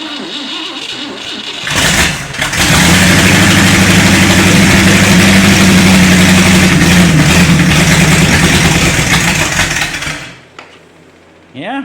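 A 1960 Cadillac with a 390 V8, run after three years unstarted, cranks and catches, then holds a loud, steady, rumbling idle close by for about eight seconds before cutting off.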